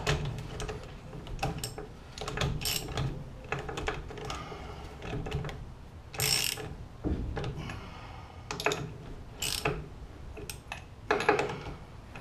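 A ratchet snugging bolts while a new rear sway bar is fitted to a car, giving close bursts of clicking and ticking in uneven spurts with short pauses between strokes, no talk.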